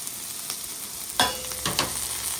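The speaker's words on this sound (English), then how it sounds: "As that butter softens, we're gonna add that garlic." Garlic hits melted butter in a pan for fried rice and sizzles steadily and close, a continuous crackle punctuated by a few louder stirring scrapes, with no talking.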